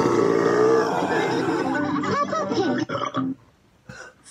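A cartoon-style belch played through an Amazon Alexa smart speaker by its Peppa Pig skill: one long, loud, gurgling burp that fades out into near silence at the end.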